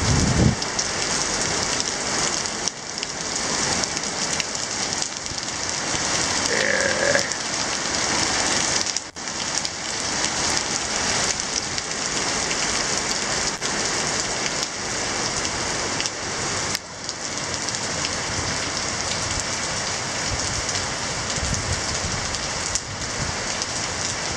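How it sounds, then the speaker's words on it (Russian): Heavy rain pours steadily and loudly, a dense continuous roar of drops drumming on surfaces with no pauses. "Какой ливень идет?"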